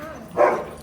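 A dog lets out a single short bark or yelp near the end of a quiet indoor stretch, close and moderately loud, with no talk around it.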